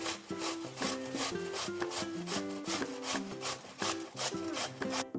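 Potatoes are scraped on the coarse side of a grater in quick, even rasping strokes, a steady rhythm running under tuneful background music.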